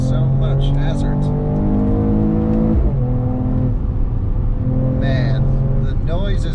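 A 2021 Mercedes E53 AMG Cabriolet engine pulls hard under acceleration on Los Angeles hill roads, its loud harmonic note climbing, dropping briefly at a gear change, then rising again, with a person talking over it throughout.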